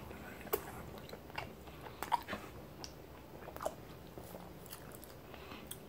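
Close, quiet biting and chewing on a fried hot dog sandwich with cheese on soft bread, a few soft crunchy bites spaced over a steady low background.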